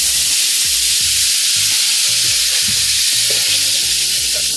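Shrimp frying in hot grease gives a loud, steady sizzle with crackling pops throughout, no voices.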